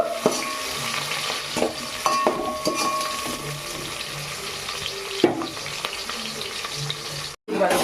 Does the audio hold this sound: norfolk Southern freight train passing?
no